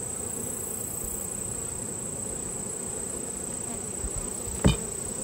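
Honeybees swarm thickly over brood-filled frames in an open hive during an inspection, giving a steady, dense buzzing hum that stays close and even throughout, with a brief knock near the end.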